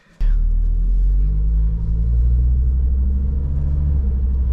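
A Volvo XC70 engine rumbles steadily up close, its low drone briefly dipping as a gear changes, with no voices.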